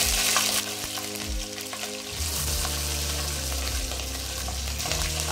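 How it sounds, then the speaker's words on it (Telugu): Green chillies drop into hot oil in a pan for a crab curry and fry with a steady sizzle, with a few clattering touches early on. The sound is close and continuous, with no voices. "ఆయిల్ బాగా మరిగిపోయిందండి. ఇప్పుడు మనం పచ్చిమిరకాయలు వేసుకోవాలి."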